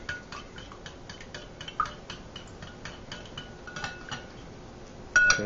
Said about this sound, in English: it might take a little bit more effort to get it blended, but just keep stirring.